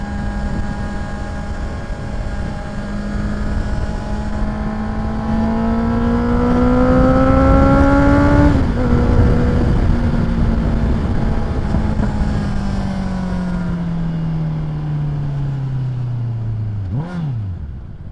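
A Honda CBR650R motorcycle engine drones steadily as it is ridden, pitch rising slowly to a peak, then falling away in a long deceleration with a brief blip near the end, loud and continuous with no talking.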